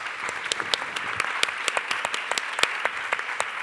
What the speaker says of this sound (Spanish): merecéis un aplauso las 3 personas que contribuyen